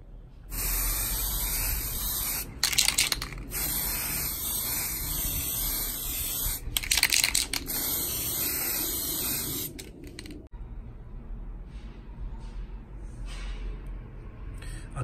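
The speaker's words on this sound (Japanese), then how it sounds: "で結局この上からスプレーするわけですよ" Aerosol spray paint hisses in long continuous bursts over a wooden bar sign outdoors, loud and close, with brief pauses between passes and no talking.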